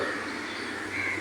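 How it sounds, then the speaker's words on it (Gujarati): An Asian koel calls in Mumbai over a constant, noisy background, its brief tonal cry carrying from some distance without any voices. "અમારે ને કોયલું બહુ બોલે છે ને"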